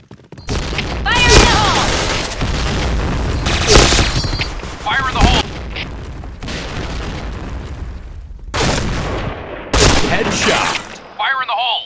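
Grenade explosions and gunfire bursts in a shooter video game, a series of loud booms and crackling volleys spread across the scene, with game voice callouts heard between them.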